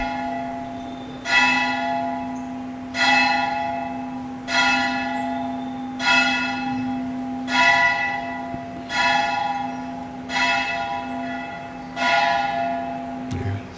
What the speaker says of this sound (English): Festival bell.